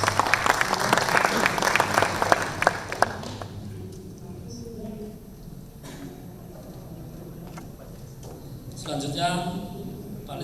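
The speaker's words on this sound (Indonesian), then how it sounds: "Kita sambut dan beri tepuk tangan yang meriah untuk Bapak Indra Gunawan" A ballroom audience at a multisensory marketing panel applauds to welcome a panelist, a dense burst of clapping for about three seconds that quickly fades into quiet room tone with faint murmurs.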